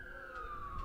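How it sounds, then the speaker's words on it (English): A faint, distant siren wails in a slow steady tone over low background noise during a women's soccer match in Nanaimo. "As the sirens sound in the distance"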